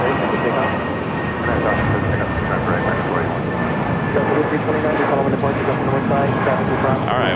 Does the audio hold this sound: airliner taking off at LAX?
yes